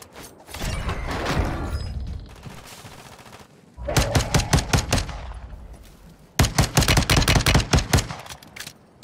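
Video game gunfire rings out in two loud bursts of rapid automatic shots, one around the middle and one near the end, after a stretch of busier in-game noise.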